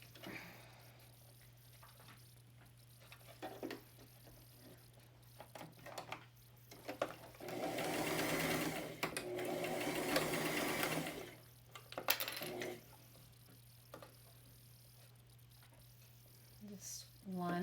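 A sewing machine stitches fabric in a steady whirring run of about four seconds in the middle, with shorter bursts before and after and light handling noise around it.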